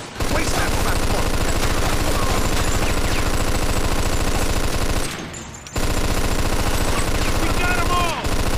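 Sustained machine gun fire from the Mafia 2 video game, a dense, loud, rapid rattle of shots lasting several seconds, breaking off briefly before resuming, with voices talking underneath.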